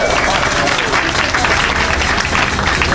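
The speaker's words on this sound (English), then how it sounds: "Come on, let's give a nice hand for them." Wedding guests on a dance floor applaud loudly and continuously, a dense wash of clapping with crowd noise and no break.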